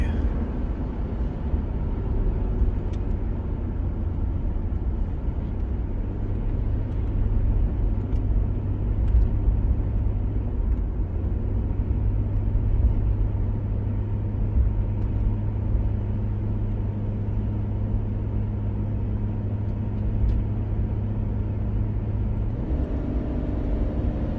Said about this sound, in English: I don't know if you guys can hear the vehicle downshifting constantly